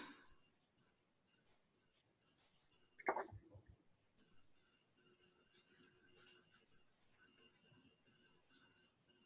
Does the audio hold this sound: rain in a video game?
no